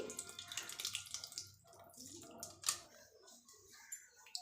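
Water from freshly washed rice is poured off and drained, a faint, close trickle and splash with a few small drips.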